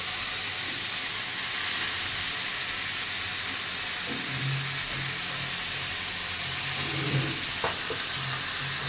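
Potatoes fry in a pan with a continuous close hiss and crackle, steady and fairly loud, with a few light stirring knocks toward the end.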